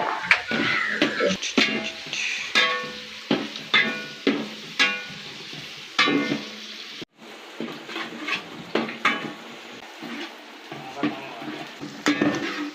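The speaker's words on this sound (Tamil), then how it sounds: "வெங்காயம் நல்லா பொன்னிறமாக வதங்கிட்டோம்" Onions and green chillies fry in a pan for a large batch of Dindigul seeraga samba biryani. A soft sizzle runs underneath as a spoon scrapes and clanks repeatedly against the pan.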